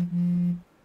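A mobile phone alert sounds once as a single steady electronic tone held for about half a second, fairly loud and close, then cutting off into quiet.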